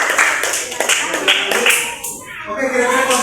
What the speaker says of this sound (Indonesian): Oke, coba berikan tepuk tangannya.